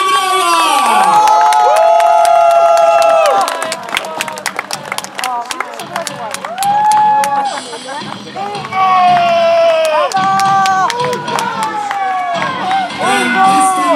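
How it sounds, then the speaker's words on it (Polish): A festival crowd cheers and applauds a knight being introduced, loud and sustained, with shouts and whistling under an announcer's voice and a break of sparser clapping midway. "Wielkie brawa!"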